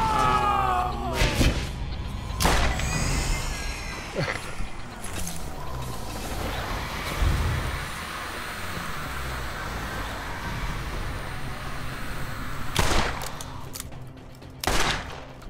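Gunfire in the video game Borderlands: bursts of rapid shots and explosive thumps over a dense, roaring game soundscape, loud and close throughout.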